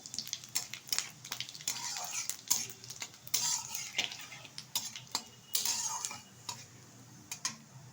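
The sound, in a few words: spices frying and stirred in oil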